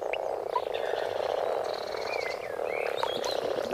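Frogs and common toads calling at a breeding pond, a dense chorus of croaks and trills with chirping calls rising above a continuous low drone, fairly close and steady, no voices.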